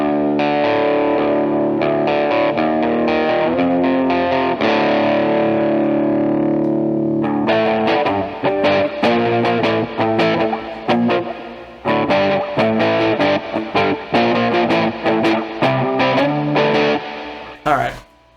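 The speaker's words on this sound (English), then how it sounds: "Let's turn the pedal on with distortion all the way down." An electric guitar plays through a Behringer Ultra Metal UM300 distortion pedal set to minimum distortion: loud, mildly overdriven sustained chords ring out, followed by choppier riffs and single notes with short gaps, ending abruptly.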